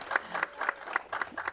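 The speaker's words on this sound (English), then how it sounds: "At this moment, we can give a round of applause." Applause from the audience at a city council meeting, a soft, distant, steady patter of many hands clapping with no voices over it.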